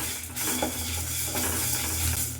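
Byadgi chillies and whole spices dry roasting in a pan, a steady soft rustling crackle with occasional scraping stirs throughout, close and continuous with no talking.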